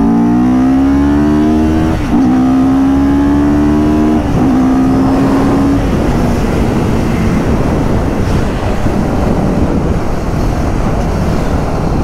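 Car engine revving hard through rising gears, with clear pitch climbs and shift breaks, then a broad roar mixed with wind noise; loud and close, no talk.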